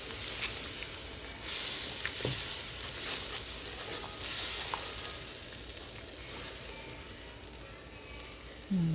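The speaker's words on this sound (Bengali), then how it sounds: "দিয়ে এটা মশলাটা নাড়াচাড়া দিয়ে একটু কষাবো" Spice masala with coriander powder frying in a pan for black chickpea bhuna, a steady close sizzle with occasional spoon scrapes as it is stirred.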